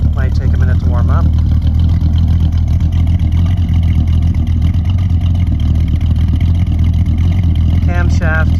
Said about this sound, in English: Hear how she sounds from the back. It's still a pretty cold engine, so it might take a minute to warm up.